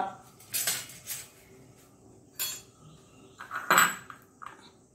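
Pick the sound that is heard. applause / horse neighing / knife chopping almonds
knife chopping almonds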